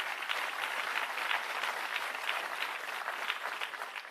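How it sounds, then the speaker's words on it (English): Sustained audience applause at an environmental excellence awards ceremony, a steady dense wash of clapping from a large crowd with no break across the whole stretch. "Let's get a round of applause for them who have made tonight possible."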